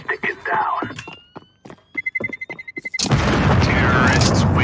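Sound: bomb exploding in video game CS Go

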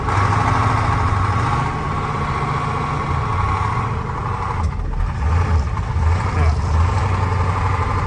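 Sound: farm truck engine running while turning around

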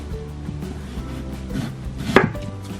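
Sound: knife julienning radish on a cutting board

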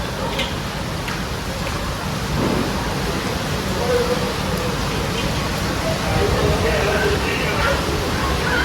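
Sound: heavy rain outside

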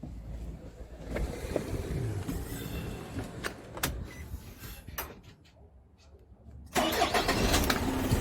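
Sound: cargo truck diesel engine starting

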